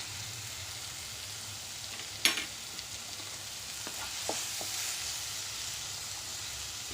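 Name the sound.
bottle gourd curry with chopped capsicum and salt sizzling in pan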